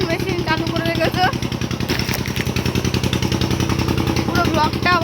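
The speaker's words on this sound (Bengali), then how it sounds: "এই দেখুন, ওই দেখুন জলের মেশিন চালু করে রেখেছে।" A shallow water pump machine runs steadily outdoors while irrigating fields and a banana orchard, its loud, continuous rhythmic engine chugging filling the whole stretch as a person talks over it.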